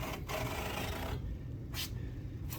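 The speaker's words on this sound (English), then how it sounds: "So that was kind of the careful getting started, slowly starting the cut." A Gratsäge hand saw starts a shallow kerf in wood with slow, steady rasping strokes that fill the whole stretch. The sawing is close and fairly loud, with brief pauses between strokes and no voices.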